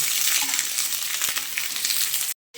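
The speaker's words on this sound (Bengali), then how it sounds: "আলুগুলো দেবো এরপর কুঁদরিগুলো দিয়ে দিচ্ছি দিয়ে ভালো করে ভেজে নেব" Potatoes and ivy gourd frying in hot oil give a dense, loud, continuous sizzle up close, with a few stirring scrapes, cutting off abruptly just before the end.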